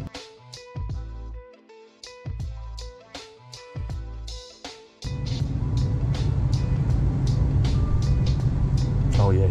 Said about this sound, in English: We are ready for our burnout